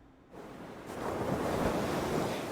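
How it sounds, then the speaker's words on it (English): Ocean waves surge in a steady, broad roaring wash that swells louder after a quieter opening moment and keeps rolling without a break, with some wind buffeting the microphone. "There's some waves."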